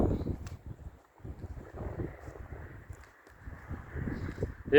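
Cool outdoor wind gusts unevenly across the microphone, producing low rumbling buffets that rise and fall over several seconds, with brief calmer pauses.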